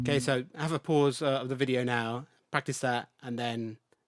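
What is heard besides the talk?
No everyday noise stands out behind the speech.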